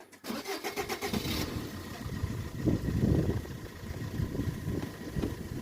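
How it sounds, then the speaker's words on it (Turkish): A Fiat Fiorino with a six-speed automatic gearbox starts up with a brief cranking burst, then its engine settles into a steady, moderately loud idle with slight rhythmic pulsing. "Arabamız şu an çalışıyor."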